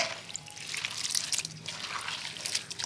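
Salted cabbage is pressed firmly by hand, and its liquid squirts and trickles out in close, uneven wet drips and splashes.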